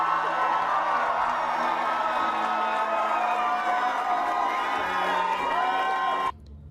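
Large crowd cheering at an election victory celebration for Democratic candidate Jennifer McClellan, a steady roar of voices with whoops and shouts that holds level for several seconds and then cuts off abruptly.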